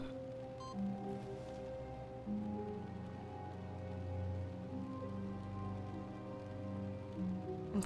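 Rain-like static ambience from The Stanley Parable forms a steady, hissing wash, with low sustained tones droning beneath it and no voices.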